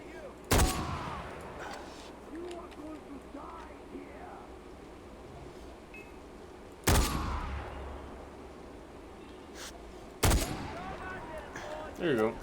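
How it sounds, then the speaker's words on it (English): Three sharp video game gunshots ring out several seconds apart, loud and close, each with a brief echoing tail over a low background murmur. "I'm hearing gunfire."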